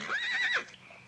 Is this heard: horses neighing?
yes